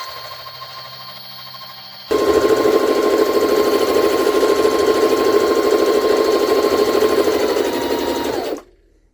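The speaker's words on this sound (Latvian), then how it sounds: "Lūk, tā šuja mūsu organzē." A Jaguar SJ-23 sewing machine stitches a straight seam through organza, a loud, fast, steady mechanical whirr that kicks in after a quieter stretch and stops abruptly near the end.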